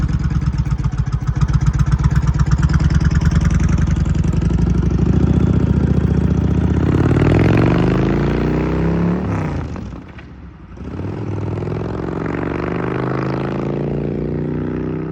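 A 1992 Kawasaki Vulcan 88 motorcycle engine runs loud and close, a steady throbbing idle that revs up and falls away, dips briefly, then settles back into a continuous rumble.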